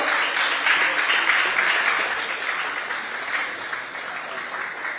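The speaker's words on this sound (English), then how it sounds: "A big round of applause." An audience at a business market access expo in Goa gives a round of applause to welcome officials, continuous clapping that slowly fades.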